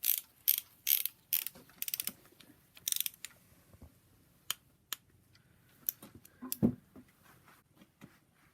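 Metal clamp being worked off during a rebuild of a BMW N54 engine in a 135i, giving a string of sharp, close clicks and snaps that come in clustered bursts early, then sparse isolated ticks with quiet between.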